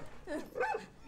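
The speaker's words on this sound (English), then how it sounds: "Hey, that's my dog!" One short dog bark in the video game Wolfenstein II: The New Colossus, a quick two-part yelp lasting about a second at moderate volume.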